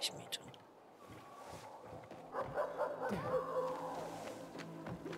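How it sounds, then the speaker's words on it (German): A dog in the video game Dying Light 2 lets out a few short, faint yips and whimpering barks over quiet ambient game audio. "Ein Hund."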